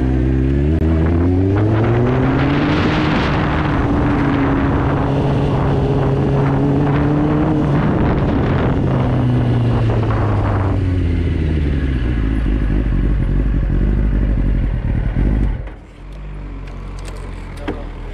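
Group of motorcycles setting off on a rally ride, engines revving loud and close, pitch rising and falling through gear changes, then dropping off to a low rumble near the end.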